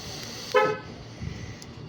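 A car gives one short horn chirp as it locks, loud and close, followed by quiet idle background.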